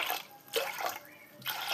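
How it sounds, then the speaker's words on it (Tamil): Water is poured onto washed chana dal in a kitchen, three short splashing bursts with brief pauses between, fairly close. "இப்போ இது கூட தண்ணி சேர்த்துக்கலாம்."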